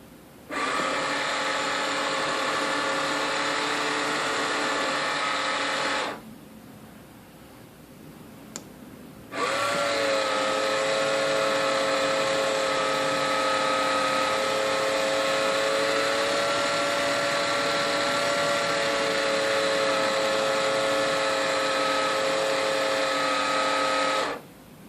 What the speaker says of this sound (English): you hold the regen button again until you hear the motor start